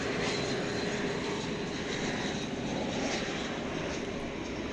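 A cargo aircraft at DFW Airport at night, heard as a faint, distant engine roar, a steady broadband rumble holding constant throughout with no voices.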